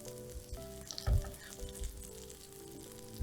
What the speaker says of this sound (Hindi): ये देखिए, अच्छे से इसको आपने फ्राई करना है।